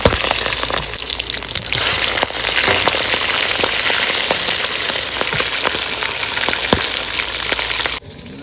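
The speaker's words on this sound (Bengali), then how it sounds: "চিংড়ি মাছগুলো কিন্তু হালকা করে ভেজে নিতে হবে" Prawns fry in hot oil over a river setting in the Sundarbans, a loud, continuous hissing sizzle dotted with sharp crackles and pops that runs steadily before cutting off abruptly near the end.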